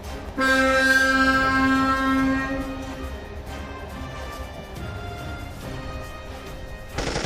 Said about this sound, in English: The shunter removed the tanker and honked to Robert as he moved away.